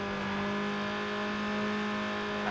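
Car engine in the PS2 racing game Need for Speed Underground, a steady loud droning hum with a constant tone that holds throughout without pause, slightly rising at the very end.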